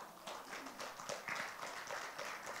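A church congregation claps together in a dense, continuous patter of hands, moderately loud and steady throughout with no talking.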